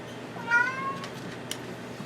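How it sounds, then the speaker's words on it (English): A pet cat named Leo lets out a single short meow near the middle, fairly faint and close, with a quiet room around it and no talking. "I don't know if you heard him meowing underneath me."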